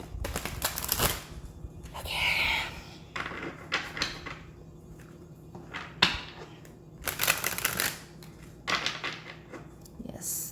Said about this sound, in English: I want to get a good shuffle.